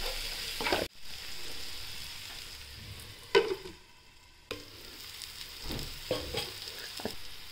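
Potato bhaji masala with salt sautés in a pan on a gas stove, giving a steady close sizzle broken by a few louder stirring scrapes and one brief drop-out. No one speaks.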